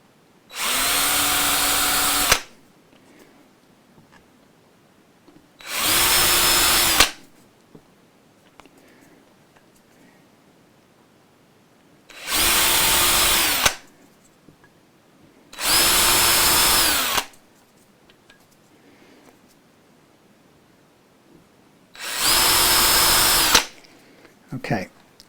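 Power drill driving small screws into soft wood during a Telecaster guitar re-fret, five separate bursts of steady whirring of about two seconds each, close and loud, with quiet pauses between.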